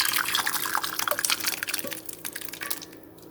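Chicken soup with melted butter poured from a pot into a serving dish, a steady liquid splash and dribble close by for about three seconds, tapering off into quiet at the end.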